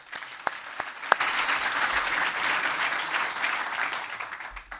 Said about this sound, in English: thank you very much already for applauding them